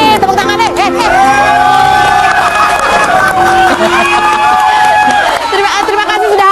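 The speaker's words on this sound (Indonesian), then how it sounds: "Tepuk tangan deh." Studio audience at an Indonesian TV gossip show cheering and clapping, a loud, dense crowd roar that holds steady for about six seconds amid ringing tonal sounds.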